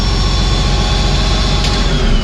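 The turbos of a brand-new bulldozer whine steadily over a deep, continuous engine rumble, loud and close with no pauses.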